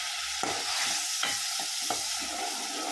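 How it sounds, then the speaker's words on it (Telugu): Onion paste, ginger garlic paste, green chillies and curry leaves sizzle in hot oil for tempering, a bright steady frying hiss broken by three or four sharp spoon scrapes against the pan. "ఆనియన్ పేస్టు, అల్లం వెల్లుల్లి పేస్టు, పచ్చిమిర్చి, కరివేపాకు వేసి ఇట్లా తాలింపు వేసేస్తున్నా"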